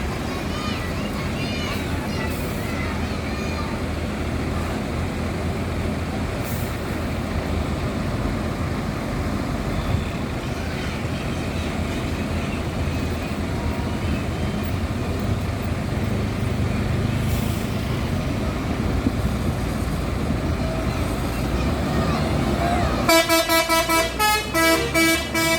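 An MPM intercity bus leaving the Bandar Solok terminal: a continuous loud engine rumble and road noise with a voice talking over it, ending in a burst of rhythmic horn honking near the close.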